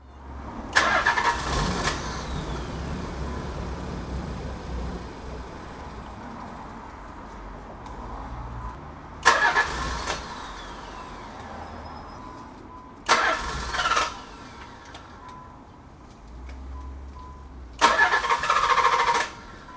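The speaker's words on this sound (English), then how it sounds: "you'll have to start the car. If the car starts, wait until it stalls." A naturally aspirated Nissan 300ZX engine cranks in four short, loud bursts spaced across the stretch, with a steady low engine hum filling the gaps between attempts.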